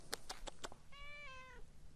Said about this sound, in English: I'm going to have to pet this cat